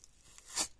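Packaging of a toaster-shaped lamp being torn open by hand, a single short crinkling rip that swells and fades within a second, close and fairly quiet with no talk.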